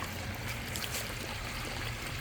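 Water pours steadily from a pond filter's discharge hose during a backwash, a continuous close gushing and splashing stream with no pauses.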